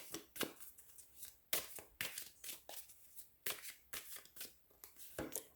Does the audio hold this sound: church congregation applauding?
no